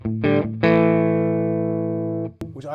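Schecter Nick Johnston PT electric guitar with the humbucker engaged in the middle position, playing a couple of short chords and then one long sustained chord that rings out and decays before a fresh strum.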